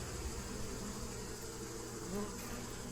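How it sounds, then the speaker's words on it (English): Steady, close insect buzzing from bees in a hive box fills the whole stretch, a dense droning hum, with faint murmuring underneath. "Bunch of bees down there."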